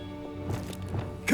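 Reparo repair spell cast in the game Hogwarts Legacy: a brief magical whoosh and crackling shimmer over a steady sustained game tone, ending in a sharper bright burst, close and fairly loud.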